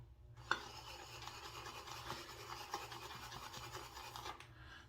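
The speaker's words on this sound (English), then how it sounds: "You see it mixes up real nice. Just a few seconds and a few swirls" A shaving brush swirls Stirling shaving soap into lather, a soft continuous wet rasping and rubbing close to the listener, steady for several seconds with a few faint taps, then stopping.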